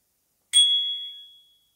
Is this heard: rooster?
no